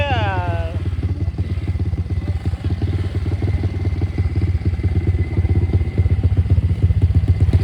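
Suzuki TS125X enduro trail motorcycle with a steady, loud mid-pitched engine chugging and clattering throughout, close by, with voices talking over it.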